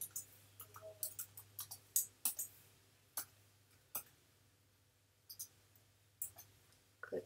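Computer mouse clicks while editing a website, a scattered series of sharp faint clicks, some in quick pairs, over a quiet background hum.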